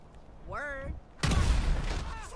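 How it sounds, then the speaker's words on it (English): A sudden broadband blast from grenades dropped in a video game erupts after a brief voiced sound, then lingers as a loud rumbling, crackling decay. "let's see what happens when I drop their grenades"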